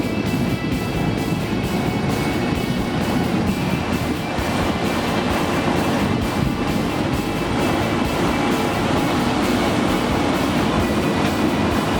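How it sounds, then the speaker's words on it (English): A snow train blows heavy snow off the tracks, a dense continuous roaring rush with rhythmic rail clatter, steady and fairly loud throughout. "the powerful snow train blows heavy snow off the tracks"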